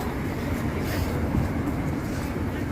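A train passes at night during a Loy Krathong festival in Thailand, giving a steady, loud rumble and rolling clatter with no break through the short stretch.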